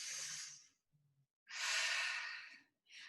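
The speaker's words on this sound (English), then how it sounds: "deep breath" Deep exhales during a stretching class for middle splits: two long, breathy sighs close to the mic, separated by a pause, with a third breath starting at the end.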